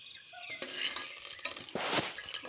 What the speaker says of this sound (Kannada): ಬಿರಿಯಾನಿ ಎಲೆ, ಸೋಂಪು ಪುಡಿ, ಸೋಂಪು ಕಾಳು ಹಾಗೆ ಮರಾಠಿ ಮೊಗ್ಗು, ಏಲಕ್ಕಿ, ಚಕ್ಕೆ, ಲವಂಗ ಎಲ್ಲನೂ ಎಣ್ಣೆಯಲ್ಲಿ ಫುಲ್ಲು